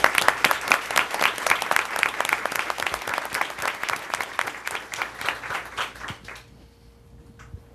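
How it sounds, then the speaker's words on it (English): Audience applauding cadets at a school board of education meeting, lively close hand claps with distinct individual strikes that gradually thin out and stop near the end, leaving quiet room tone. "I know you want to give the cadets a round of applause"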